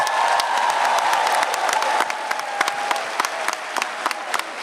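A large audience of nearly two thousand at a school convocation gives sustained applause, a dense wash of clapping with sharper individual claps standing out, moderately loud and fairly close.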